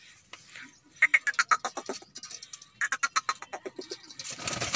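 Pigeons feeding coo and flutter nearby in quick, repeated bursts of soft calls, a flurry of birds close together, with faint background noise.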